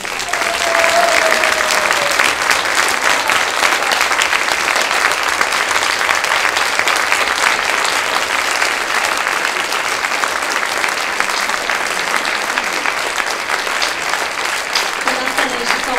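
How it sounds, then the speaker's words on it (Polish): An audience claps loudly and steadily for speakers at an event, a dense continuous applause lasting throughout, with a brief voice near the start. "wielkie oklaski dla tych osób"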